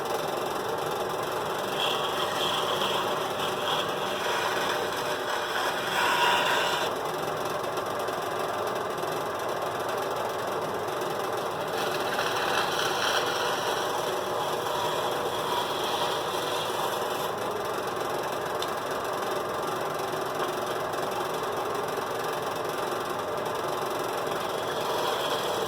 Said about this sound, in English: I do have the bandsaw on its fastest setting for this.